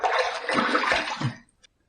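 Water splashes steadily for about a second and a half while a face is rinsed after a shave with a Phoenix Clásico Bay Rum routine, then cuts off, leaving a brief drip and quiet.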